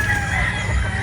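Chickens on a Filipino backyard farm, Boston Black pullets being fed, give off a steady close chorus of clucking and low murmuring calls over constant farmyard background noise, with no talking.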